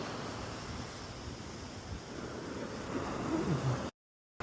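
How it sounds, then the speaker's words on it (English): Ocean waves roll in at Coronado beach as a steady, broad wash of surf and wind rushing against the microphone before cutting off abruptly, with no talking. "Waves are rolling in right here."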